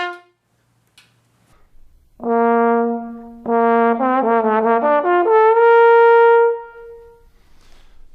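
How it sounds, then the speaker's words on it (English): Trombone notes with the slide pushed in and out to change pitch, starting with a long held tone and then stepping and gliding between pitches, loud and close over a quiet background. "Everyone else has to push some kind of button to change the pitches, while the trombone player moves the slide in and out."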